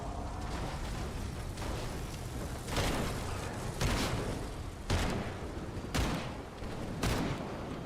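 Repeated gunfire bursts in the zombie horror game Evil Dead: The Game, roughly six sharp broadband shots spaced about a second apart over a constant loud rumble of game noise, with no talking.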